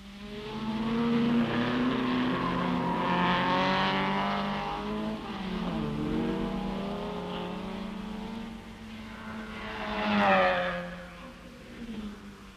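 Vintage MG and Triumph Spitfire race cars competing at Rouen during the 1964 Tour Auto, with loud, close engines droning and rising and falling as they pass, plus a sharp swell of revving near the end.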